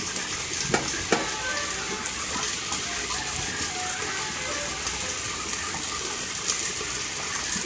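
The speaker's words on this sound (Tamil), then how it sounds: "இப்போ அடுப்பில் நல்லா குழம்பு கொதித்து வந்துக்கிட்டு இருக்குது" Fish curry bubbles steadily in a pot on a stovetop with a continuous close sizzling, simmering hiss, with a few sharp clinks or taps scattered through.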